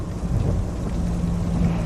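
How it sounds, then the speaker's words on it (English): Heavy rain pours down in a dense, continuous roar with low thunder-like rumbling, loud and steady with no talk. "it's raining like crazy"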